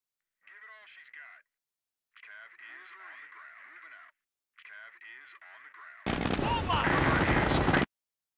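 Gunfire in the Company of Heroes video game: a dense, loud burst of shooting lasts nearly two seconds after several short radio-style voice lines.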